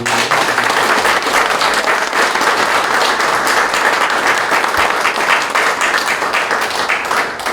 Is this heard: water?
no